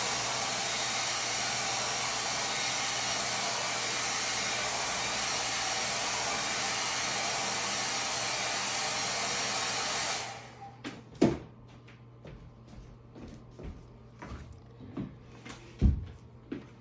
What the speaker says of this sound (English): I need to blow dry this